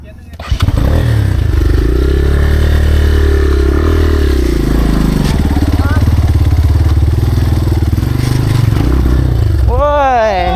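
Enduro motorcycle engine labouring up a climb in second gear on a mountain trail in Laos, loud and close with a steady throaty drone that rises and falls with the throttle, while a rider's voice comes in briefly at the end.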